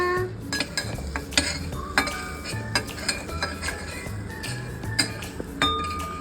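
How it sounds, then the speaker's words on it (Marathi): Corn stirred with chaat masala in a kadhai: a spoon scrapes and clinks against the metal pan in steady, irregular strokes, close and moderately loud, with faint background noise. "थोडा चाट मसाला कढाईमध्ये टाकूया. मिक्स करूया."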